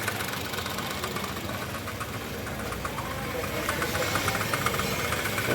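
Car engine idling with a worn belt tensioner, a steady mechanical hum layered with fast rattling and ticking, close up and slightly louder toward the end, with no voices.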